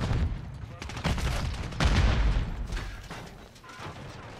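Sharp sniper rifle cracks mixed with other gunfire in a multiplayer shooter video game, several shots close together over a dense battle din, with faint talk underneath.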